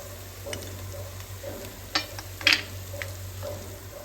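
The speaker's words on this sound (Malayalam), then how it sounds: "നമുക്കിത് ഇളക്കിയിട്ട് ഇടയ്ക്ക് ഇളക്കി കൊടുക്കണം" Masala frying for chicken biryani, a soft steady sizzle with a few sharp clinks of a spoon stirring against the pot, close and fairly quiet over a low background hum.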